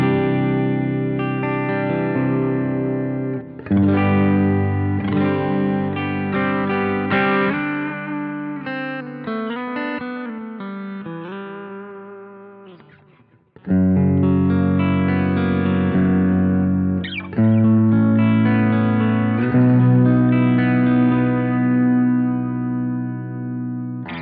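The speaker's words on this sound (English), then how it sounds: "If we move down to the bridge pickup with the chorus, compressor, and delay." Stratocaster-style electric guitar on the bridge pickup through a Boss GT-100 with chorus, compressor and delay, playing sustained chords and melodic lines, loud and alone, with a brief drop to near silence midway before the playing resumes.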